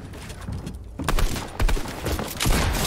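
Gunfire in the Fortnite video game: several sharp shots in quick succession, loud and close, over game background noise.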